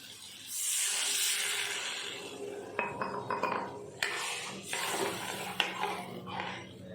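Water is poured into a hot pan of spiced, well-fried potatoes, giving a loud rushing hiss that fades, followed by several sharp clinks and scrapes of a utensil against the pan.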